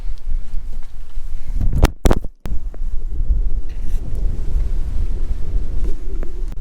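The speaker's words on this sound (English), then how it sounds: "It is windy." Low, blustery wind rumble buffets the microphone throughout, with a brief gusty burst and dropout in the middle; no talking.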